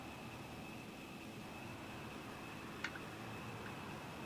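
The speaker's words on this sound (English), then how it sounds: "you can kind of hear some of the fans and stuff running in the background while the plane starts to power up" Cooling fans in a Boeing 787-10 cockpit as the plane powers up, a steady broadband whir with a faint constant whine, plus one brief click near the end.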